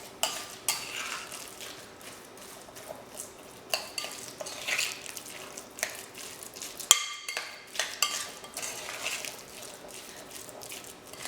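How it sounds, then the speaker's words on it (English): A spoon working through a thick mashed black bean burger mixture with garlic and spices in a bowl, giving soft repeated squishy scrapes and occasional clinks of utensil on the bowl, close and fairly quiet. "And then you're just going to mix it together really well."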